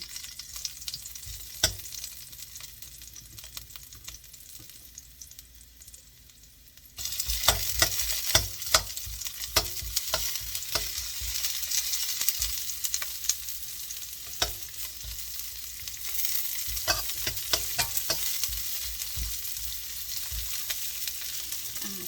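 Shallots and garlic stir-fry in a hot pan, at first a quiet hiss that jumps into loud, crackling sizzling with repeated clatters of the spatula against the pan, continuing steadily for about twenty seconds.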